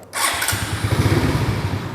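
A custom motorcycle engine idles with a steady, low, rhythmic putter after a brief starting burst, close by and fairly quiet.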